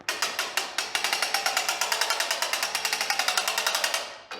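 A manually cranked homemade elevator in a backyard fallout shelter gives a fast, steady run of sharp ratcheting clicks from its crank and brake, close and fairly loud, slowing and stopping at the end with no talking.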